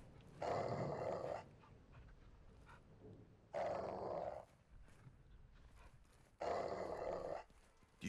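A caged dog growls in Call of Duty: Modern Warfare 2, three loud, rough growling bursts separated by quieter pauses, close and alone with no talk.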